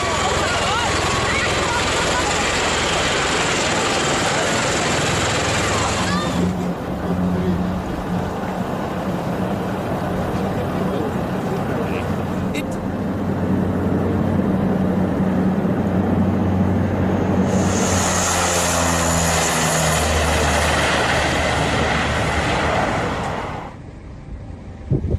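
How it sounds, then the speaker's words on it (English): Loud, continuous rotor and engine roar from a V-22 Osprey tiltrotor aircraft coming in to land, a heavy steady drone lasting most of the time, with a brighter whine swelling near the end before cutting off. "A V-22 Osprey made a dramatic entrance."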